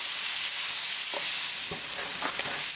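Onions sauteing in a pan, a steady close sizzle of frying with a few scraping stirs of a utensil against the pan, no voices.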